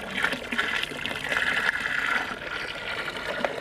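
Jaggery dissolved in water being stirred and mixed in a drum for a homemade organic humic acid fertiliser: continuous close sloshing and swirling water with gurgling surges, steady for several seconds and without talk.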